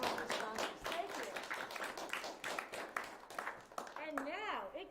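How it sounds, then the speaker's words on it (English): Audience applause for corporate sponsors at a community concert, steady clapping under a speaking voice for several seconds, with a person talking over it near the end. "How about a big round of applause for our wonderful corporate sponsors?"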